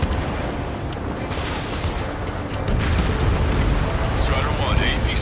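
A deep, rumbling blast from an APC being destroyed in Ace Combat 7, a long roar that swells midway and keeps booming through the whole stretch.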